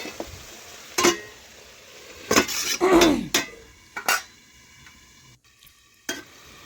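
A lid is set over a cooking pot of potatoes and vegetables, giving several sharp metallic clanks and scrapes, with a short ringing rattle in the middle, over a quiet sizzle.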